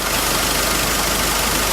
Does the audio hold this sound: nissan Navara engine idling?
yes